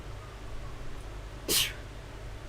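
A single sharp sneeze bursts out mid-clip, near and loud, over a steady low background hum, with no talking around it.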